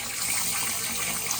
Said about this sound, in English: I've also got an acceptable amount of water pressure here at the sink.